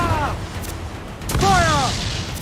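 Ship cannons fire in Assassin's Creed IV Black Flag during a close-quarters naval battle: a couple of deep booms beneath shouted commands and voices, with low rumble throughout.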